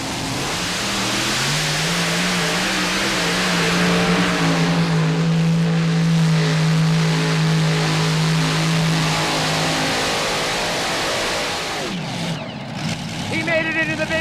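A modified tractor's engine roars at a tractor pull, holding a steady, heavy drone before it fades near the end, with an announcer talking over it.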